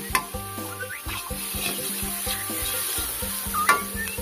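Dried roasted chilies stir-fried with chili and garlic in a wok, a continuous sizzle with scraping stirs and a few clinks of a spatula, close and moderately loud, with no talking.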